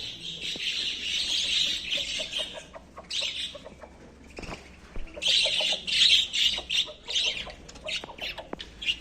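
Pet parrots squawk and chatter close by in harsh bursts, broken by brief pauses, with shrill calls overlapping through the stretch.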